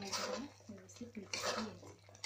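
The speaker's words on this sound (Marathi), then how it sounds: "याच्यामध्ये आपल्याला पनीरचे जे स्लायसेस आपण केलेले आहेत तुकडे ते टाकायचे आहेत" Paneer slices go into a pan of cooked gravy for coriander paneer, heard as close, bright clatter of a metal spoon and pan in short bursts over about two seconds.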